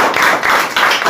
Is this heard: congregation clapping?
yes